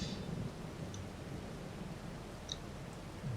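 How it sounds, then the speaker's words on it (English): Steady rain hisses in Farming Simulator 22, an even wash of falling water with a low rumbling bed, and a few faint ticks stand out over it. It stays constant and moderate with no voices. "it is still raining"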